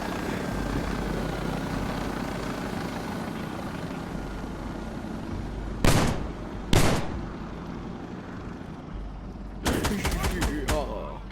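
Gunfire in the tactical shooter game Insurgency Sandstorm: two sharp single shots around the middle, then a fast burst of several rounds near the end, all over a steady loud background rumble of game ambience.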